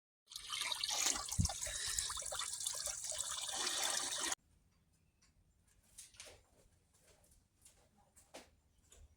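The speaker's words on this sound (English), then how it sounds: "I'll rinse it again." A part is rinsed under running tap water with a strong, steady hiss that stops abruptly after about four seconds, then faint drips and small clatters follow.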